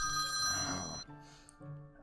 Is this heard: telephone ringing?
yes